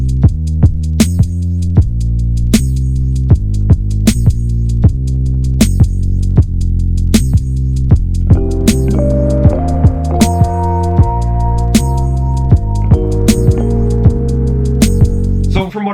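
Music plays from a vinyl record after the needle drops, a steady rhythmic beat of sharp repeated hits over a deep bass pulse, with sustained melodic tones joining partway through, clear and up close.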